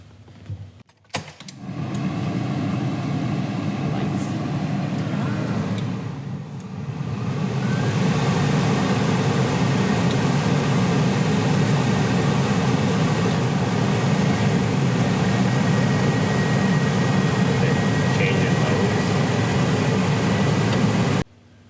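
A vacuum pump evacuating a Vintage Air AC system in a 1977 Corvette C3 starts up with a click and settles into a loud, steady motor drone that continues unbroken, with no talking.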